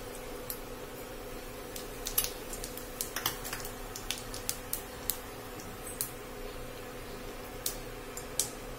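Mustard seeds pop and crackle in hot oil in a pan, scattered sharp little snaps and ticks over a faint steady sizzle, irregular and close, with no voices.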